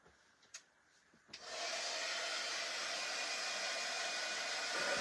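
A hair dryer switches on and runs loudly and steadily, blowing over a freshly applied distressed paint finish after a couple of faint clicks.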